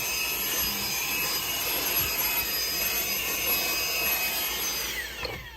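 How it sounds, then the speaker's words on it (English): A VNOST cordless portable mini car vacuum cleaner runs with a steady, close, high whine and airy rush, holding constant before a brief change near the end. "And then you can use it to vacuum your car."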